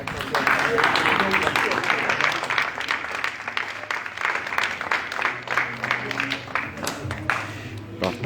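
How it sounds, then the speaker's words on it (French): Audience applause fills a live broadcast in a French-speaking setting, with dense, sustained clapping throughout and voices mixed in underneath. "Je voudrais entendre des applaudissements."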